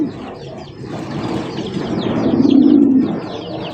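A Bombai pigeon with mehendi markings coos loudly and close in a dense, throaty rumble that swells toward the middle, while other birds chirp faintly behind it.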